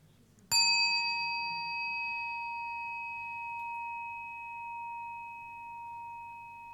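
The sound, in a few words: meditation bell being invited to sound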